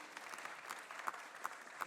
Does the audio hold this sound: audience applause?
yes